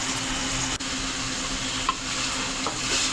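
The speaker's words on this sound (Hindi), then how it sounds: "पाँच से 6 मिनट चिकन के साथ इसकी बुनाई करेंगे अच्छी तरह।" Chicken stirred and sautéed in a pot for a village-style degi aloo chicken curry, a steady close sizzle with stirring scrapes running throughout and no talk.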